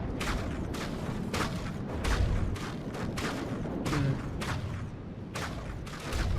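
Naval gunfire and torpedo launches in a naval combat video game, a steady run of repeated booming shots and blasts in rhythmic succession over a constant rumbling background, loud and continuous.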